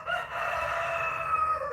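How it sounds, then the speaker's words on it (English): A rooster crows in one sustained, loud, close call that holds steady for nearly two seconds with no talk over it. "Roosters."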